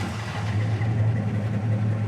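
The original 307 two-barrel V8 in a 1972 Chevy Nova runs with a low, steady rumbling idle and slight uneven pulsing, close and moderately loud throughout.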